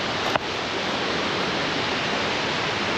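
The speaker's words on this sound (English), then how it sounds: "as you can hear, oh, the waterfall." A waterfall in Norway roaring close by, a loud, dense and unbroken rush of falling water filling the whole clip, with one brief click near the start.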